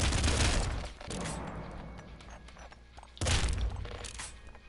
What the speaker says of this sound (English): Triple machine gun.